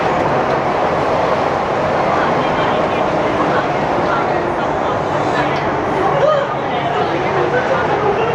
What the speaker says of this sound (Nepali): ट्रेन चाहिँ अगाडि बढिरहेको अवस्था।